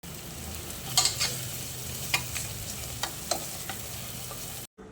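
Spices and masala sautéing in a pan for prawn biryani, a steady low sizzle with a few light scraping stirs of a spoon against the pan, ending abruptly.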